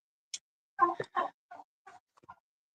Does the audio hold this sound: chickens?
yes